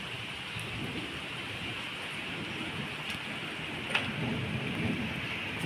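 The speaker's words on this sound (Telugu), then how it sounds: "వాన పడుతున్నది." Rain falls on a rooftop terrace in Hyderabad during a summer storm, a continuous close hiss with a sharp thunder crack near the end followed by low rumbling.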